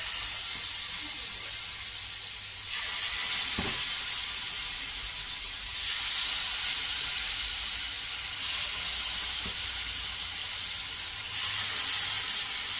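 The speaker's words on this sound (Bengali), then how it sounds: "এবার আমার এই সটে করা রাখা এই চিকেনগুলো এগুলো দিয়ে দেবো।" Chicken pieces frying in melted butter in a frying pan, giving a steady close sizzle and hiss that swells and eases slightly, with no talking.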